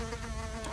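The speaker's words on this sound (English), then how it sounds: "Pesky bee." A bee buzzing close by, a steady droning hum that holds without a break through a short moment.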